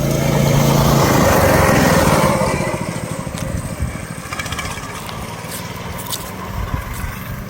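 An engine-swapped Motovox mini bike runs close by with a loud, raspy small-engine drone that eases slightly in volume after the first couple of seconds and then holds steady.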